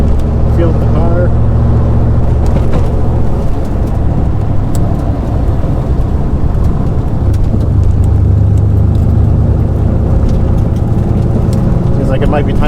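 A Pontiac Trans Am drives along a highway, its engine and road noise a steady, loud drone throughout, with people talking over it inside the car.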